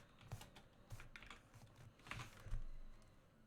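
Quiet, irregular keystrokes on a computer keyboard, with scattered taps and a few firmer key presses heard up close while code is written, with no talk over it.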